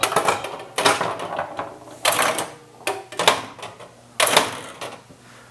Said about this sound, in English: Ball's coming out of the slot machine.